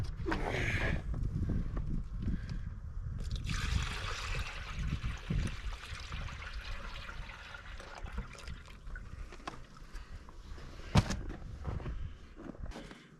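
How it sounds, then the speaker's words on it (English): Antifreeze is poured into the engine of a Super W-6 during a thermostat replacement, making a steady liquid gurgle and trickle up close with some handling noises and no talk. "Put the rest of the antifreeze in."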